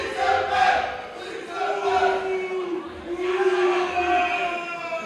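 Wrestling crowd at a lucha-style match rising in sustained cheers and chants, a continuous roar of many voices with swelling peaks, steady and fairly loud throughout.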